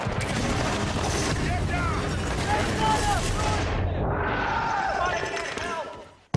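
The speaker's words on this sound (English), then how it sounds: "I just couldn't seem to get rid of the machine gun" Sustained machine gun fire from the Battlefield: Bad Company video game rattles on densely, with whizzing effects layered over it, before dropping off abruptly with a final bang.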